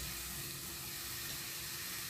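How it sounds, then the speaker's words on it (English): Water poured steadily into a pot of Sumatran beef curry (daging cincang) with cinnamon stick and meat, a continuous splashing wash that holds at an even level for about two seconds, close by and with no talking. "Then I'm going to put about 1 cup of water"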